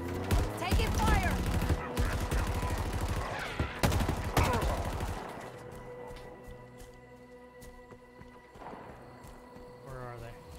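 Rapid bursts of gunfire in the first-person shooter Halo Infinite, loud dense volleys for about five seconds that then drop away to quieter battle ambience, with voices talking over it.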